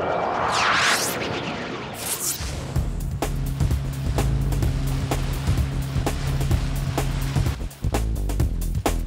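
A Wahoo Barracuda rigid inflatable boat runs on the sea, its engine droning under rushing water and wave slap, with repeated thuds as the hull hits the swell.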